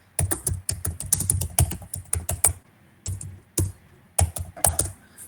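Someone types on a computer keyboard in quick, clattering runs of keystrokes, with brief pauses between bursts, close and clear with no voices.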